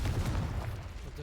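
Incendio and Confringo fire spells cast in the Hogwarts Legacy video game, heard as a dense, loud run of booming, crackling blasts with heavy low rumble, one burst rolling into the next.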